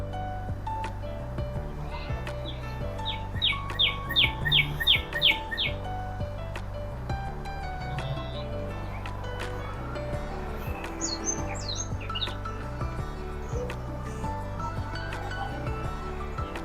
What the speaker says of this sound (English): There are butterflies, there are birds.